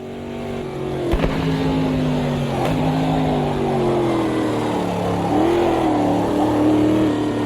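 A race car engine in Automobilista 2 drones steadily at high revs on track, its pitch sliding up and down through gear changes and corners, loud and continuous with a few brief clicks.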